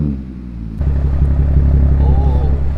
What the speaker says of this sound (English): The startup on this car